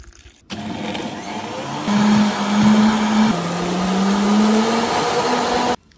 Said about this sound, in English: we're just gonna throw it in a blender and we're gonna blend it up